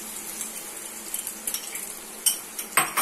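Pasta masala curry being mixed with whisked eggs in a pan, heard as a soft bed of faint sizzle with scattered light clinks and scrapes of a utensil against the pan, growing sharper toward the end.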